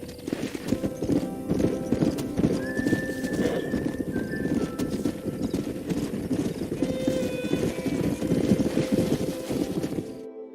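A stallion in the Red Dead Redemption video game clops along steadily with rhythmic hooves throughout, close and clear, with brief whinnying neighs rising over the hoofbeats partway through.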